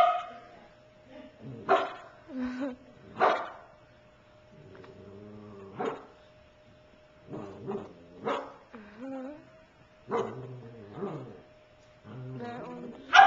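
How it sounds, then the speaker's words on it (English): A pet dog barks and yips in short bursts scattered across the stretch, loud and close, with a person talking in between and a steady faint tone running underneath. "this is my dog."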